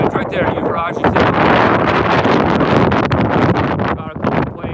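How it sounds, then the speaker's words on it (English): Strong wind buffets the microphone at a small airfield beside a children's play area with tied-down light airplanes, a loud steady roar and rumble running throughout with brief gusty swells. "Wow, it's windy."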